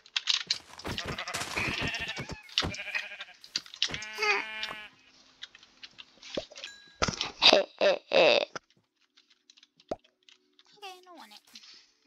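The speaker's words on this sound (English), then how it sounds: "so you kill the normal sheep" Someone talks excitedly over Minecraft sounds, with several short electronic sheep bleats and popping effects coming through between the words.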